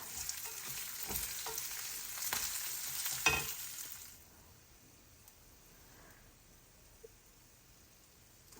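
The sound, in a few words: roasting karela chutney ingredients together in a pan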